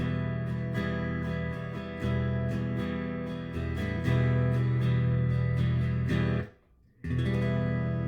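Minor guitar chords strummed repeatedly in a steady rhythm, ringing and full, with a brief drop to near silence before the strumming resumes.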